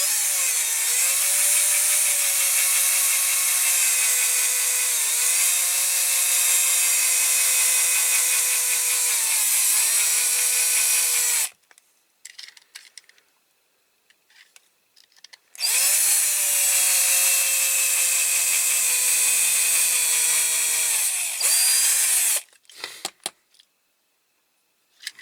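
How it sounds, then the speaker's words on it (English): A power drill bores with a drill bit during restoration of a Dinky Toys Ford Anglia 105e die-cast model, a long high whining run that stops, then starts again for several more seconds. "I think my drill bits need sharpening again."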